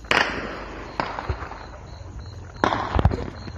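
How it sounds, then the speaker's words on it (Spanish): A few sharp, loud gunshots ring out with gaps between them during a shootout in Huanímaro, Guanajuato, each one echoing and trailing off into a noisy outdoor background. "Te escuchan los balazos todavía."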